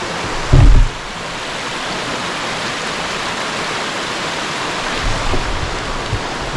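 A forest stream on the Appalachian Trail rushes steadily in a dense, loud wash of flowing water, with a brief bump of wind or handling near the start.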